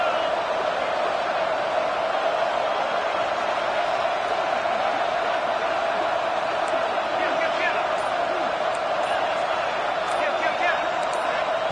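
A loud, steady roar rises from the crowd at a college football stadium as Cincinnati plays at West Virginia, a dense and continuous wall of noise with a commentator talking over it.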